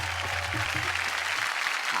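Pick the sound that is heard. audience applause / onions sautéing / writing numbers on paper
audience applause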